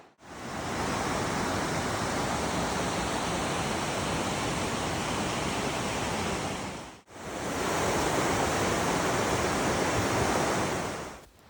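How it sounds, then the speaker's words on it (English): A rushing river beside an old washed-out road on a backpacking trail in the Olympic Mountains gives a steady, loud, broadband roar. It breaks off briefly near the seven-second mark, then resumes just as strongly. "the rushing river"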